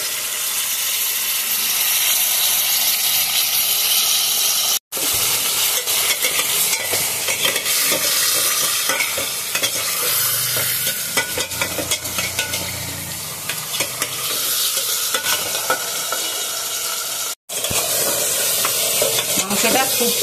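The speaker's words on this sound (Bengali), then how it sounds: "পেঁয়াজটা আমার ভাজা হয়ে গেছে, এবার মটনটা দেব। পেঁয়াজ আর মটন 1 ঘন্টার মতন কষাবো" Mutton and onions fry and are stirred in an aluminium pot, with a steady, loud sizzle and hiss punctuated by scraping stirs and occasional metallic clinks, close and continuous.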